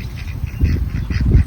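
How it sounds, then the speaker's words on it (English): Baby ducks on a farm quacking in quick, overlapping peeps and quacks, close and fairly loud, growing busier toward the end with no talking. "Here's our baby ducks."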